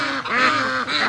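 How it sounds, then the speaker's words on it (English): A white Muscovy duck in a free-range barn setting gives raspy, hoarse quacks in quick succession, close and fairly loud. "This is this year's Muscovy."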